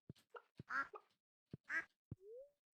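A duck in the Stardew Valley video game gives a few short, clean quacks in isolation, separated by clicks and soft game sound effects, ending with a small rising blip.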